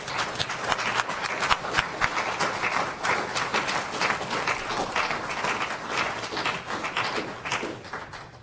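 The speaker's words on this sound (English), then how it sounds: "Let's give them a round of applause" A police awards ceremony audience applauds steadily, dense overlapping claps from a sizable crowd filling the room and holding strong before tapering slightly at the end.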